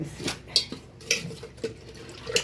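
Rice flour being stirred into milk in a pot: a spoon knocks and clinks against the pot in four or five separate strikes, with a soft wet swish between them.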